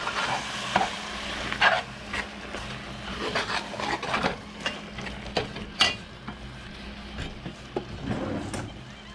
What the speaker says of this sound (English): I'm going to turn down the heat to a low simmer